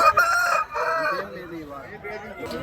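A rooster crows loudly and close by, a long drawn-out call that trails off, with faint background noise and a brief sound near the end.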